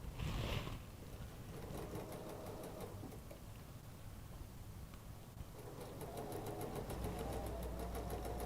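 A sewing machine stitching quilt pieces, a quiet rapid mechanical whir that runs steadily and picks up slightly toward the end, with soft handling noise at the start.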